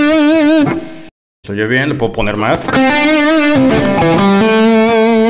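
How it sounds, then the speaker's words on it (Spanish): An electric guitar plays sustained, distorted notes through a Cuvave Cube Baby multi-effects pedal with echo added. A brief silent gap interrupts the playing, and someone talks over the loud, close guitar. "Vamos a poner un poco de eco."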